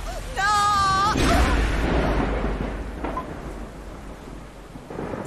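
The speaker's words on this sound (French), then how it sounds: "C'est une grosse tempête." A heavy thunderstorm with loud rumbling thunder and rain, a sustained roar that swells early and slowly eases; a brief tonal sound and faint voices appear near the start.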